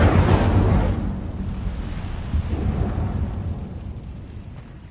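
A single Incendio fire spell blast in Hogwarts Legacy erupts loudly at the start, a broad roaring whoosh that fades into a long rumbling tail with no talk over it.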